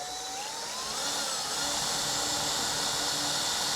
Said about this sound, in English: drilling a hole through for a marker to run my hole saw from the outside in